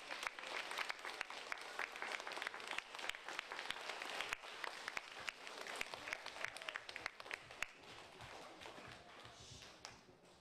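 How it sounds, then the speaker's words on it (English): An audience applauds for the Barret school becoming a Paideia partner, giving themselves a sustained round of dense clapping that fills the room steadily from start to finish with no speech over it. "I want you to signify that to each other by giving yourselves a round of applause"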